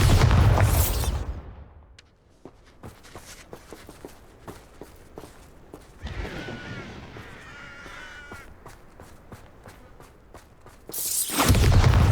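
The Bombarda spell explodes in the video game Hogwarts Legacy with a loud booming blast at the start and another at the end, separated by quieter footsteps and faint crowing sounds.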